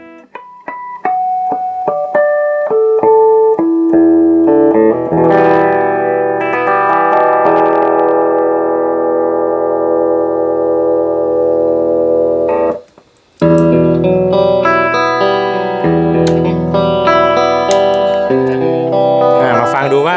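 A repaired EVH electric guitar plays a few single notes, then a long sustained chord drenched in chorus, echo and reverb, a brief silence, and more effected, distorted chords, loud and close throughout.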